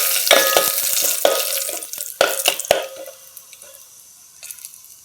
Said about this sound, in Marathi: मी 1 चमचा तूप टाकलं आणि यामध्ये ना हे चांगलं परतून घ्यायचे